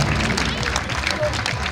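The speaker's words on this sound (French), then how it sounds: "J'aimerais qu'on puisse applaudir la mutuelle de développement de Belacro" An audience at a community event in Belakro, Côte d'Ivoire applauds the local development mutual, clapping mixed with crowd noise under a speaker's amplified voice.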